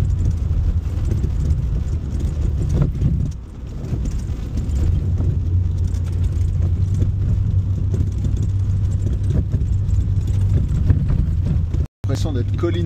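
A Corvette C4 drives a winding road, its engine a steady low drone up close and loud throughout, with a short dip partway and a brief cut near the end; a voice talks over it.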